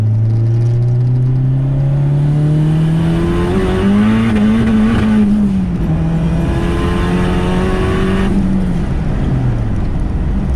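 A car on an E85 tune pulls hard in third gear. The engine note climbs steadily in pitch, eases slightly, then climbs again before the revs drop off, loud and close throughout, with no talking.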